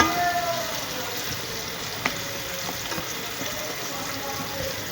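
Chopped onions frying in ghee in a pan, a steady close hiss and crackle that runs throughout, with a faint clink partway through.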